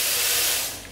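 Water rushes from a reopened tap after a leaking tap repair with the supply back on, a steady close hiss lasting about a second and easing slightly at the end.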